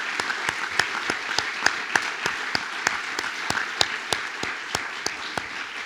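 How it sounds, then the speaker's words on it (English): Applause from a modest crowd at an outdoor groundbreaking ceremony, with a light wash of clapping and a few sharper, regularly spaced claps standing out, fairly distant and soft. "I'd like to ask for your applause in this."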